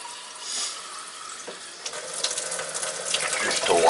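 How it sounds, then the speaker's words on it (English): A pint of water poured into a container, a splashing, trickling stream that builds and grows louder over a few seconds. "Now we're gonna put a pint of water in here."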